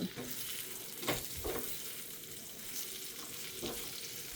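Idli pieces get stirred through masala chutney powder in a hot pan, a soft steady sizzle with a few scraping stirs, quiet and close.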